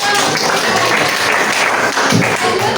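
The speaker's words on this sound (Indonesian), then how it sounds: "Tepuk tangan." Children in a classroom clap their hands together in a steady, dense round of applause that carries on for a few seconds without a break.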